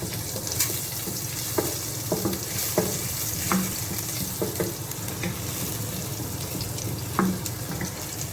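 Chopped garlic fries in oil for egg fried rice, a dense continuous sizzle with repeated spoon scrapes and taps against the pan at irregular intervals, close and moderately loud.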